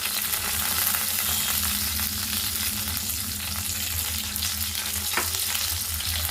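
Onions and green chillies frying in oil in a pan, giving a constant loud sizzle with faint stirring and one brief clink near the end.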